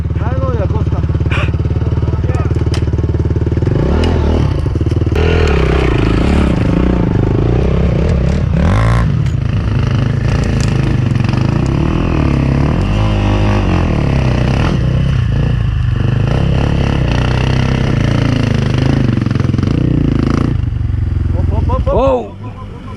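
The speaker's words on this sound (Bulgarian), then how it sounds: "Той то новия мотор." A new enduro motorcycle revs hard on a forest trail in Bulgaria, its engine rising and falling in loud, close bursts with clattering and scraping over rough ground, while people talk over it.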